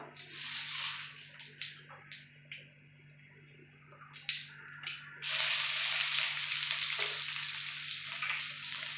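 Onions hit hot oil with mustard seeds in a pan, starting with intermittent spitting and stirring scrapes, then erupting into a loud, continuous sizzle that holds steady to the end.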